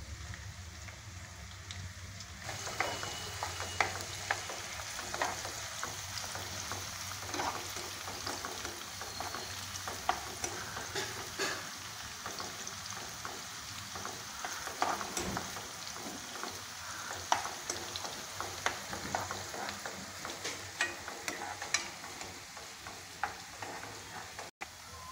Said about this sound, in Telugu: ఆయిల్ హీటెక్కిన తర్వాత ముందుగా పెట్టుకున్న ఉల్లిపాయ పచ్చిమిరపకాయ వేసేసుకుందాం.